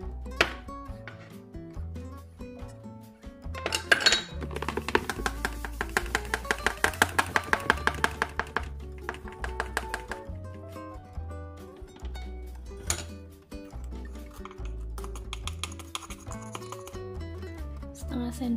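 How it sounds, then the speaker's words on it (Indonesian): Batter for a steamed coconut-milk sponge cake made with emulsifier is whisked in a bowl, giving a burst of rapid, rhythmic clinking taps between scattered knocks, with a person talking throughout. "bahan-bahannya bisa dicampur jadi satu, dikocok semuanya"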